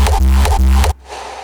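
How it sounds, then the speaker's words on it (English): Heavy, booming electronic kick drum with a sustained low tail, hit three times in a steady rhythm before cutting off abruptly, loud and dry with no voices. "So without the tape stop it sounds like this."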